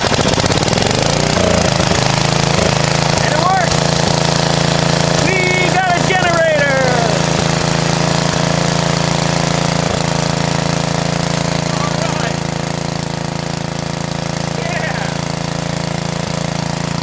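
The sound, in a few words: Generac generator engine running after carburetor replacement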